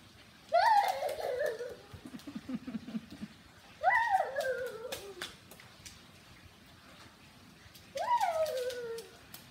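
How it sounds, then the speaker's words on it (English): A bird gives three separate descending, slurred calls spaced a few seconds apart outdoors in the rain, each fairly close and clear over a quiet background with faint rustling. "What's that, Ben? That bird?"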